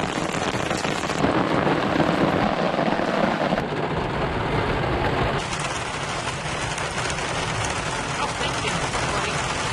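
A thunderstorm outdoors on Kelleys Island, with steady heavy rain hissing on surfaces and a low continuous rumble of thunder underneath, loud and sustained throughout while a voice talks over it.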